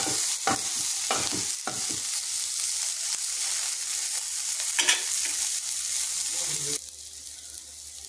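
Garlic, green chili and curry leaves frying in oil, a loud hissing sizzle with several sharp spoon scrapes and stirs up close, easing to a quieter simmer near the end.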